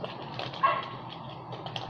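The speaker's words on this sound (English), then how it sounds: "so sorry for the dogs outside" Dogs bark outdoors, a few muffled yaps and woofs heard from some distance through walls, faint against a quiet indoor background.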